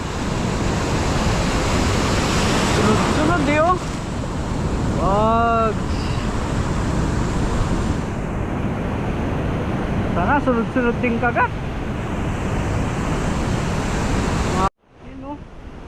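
Rough surf breaks loudly and continuously on the shore during an ultralight fishing outing, with heavy wind buffeting the microphone and someone talking over the crashing water.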